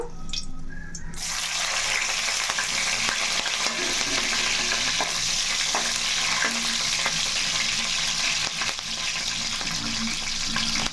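Green chilies drop into hot oil with cinnamon and cloves, a brief quiet moment giving way to a sudden loud, sustained sizzle with occasional stirring clinks, no speech.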